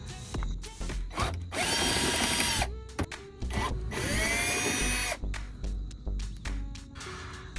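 A power driver backs screws out of the lower air dam, in front of the passenger-side tire on a 2022 Toyota Tacoma, in two long, loud whirring runs with shorter bursts and clicks between them, all close by.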